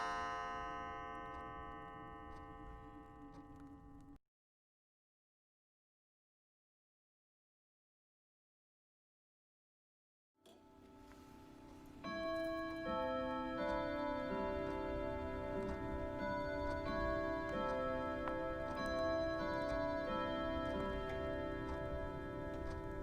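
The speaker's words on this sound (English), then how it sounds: "Once again, we hear the chiming of the clock." A clock in a cold room chimes with sustained, ringing harmonic tones. The chiming breaks off into silence, then returns louder and fuller with layered, resonant notes, steady and close.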